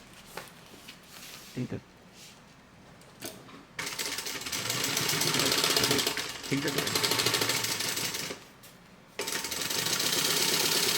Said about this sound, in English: fold back the portion of your bag that you don't want to sew, and then stitch the pocket